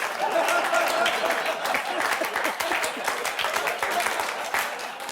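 Studio audience on a late-night comedy show breaking into dense applause with scattered whoops, steady and loud from start to finish with no talk over it.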